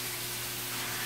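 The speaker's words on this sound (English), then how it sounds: "You can hear that sizzling." Chicken sizzles in a hot pan, a steady, faint hiss of frying spread evenly across the whole second with a low hum beneath and no talk.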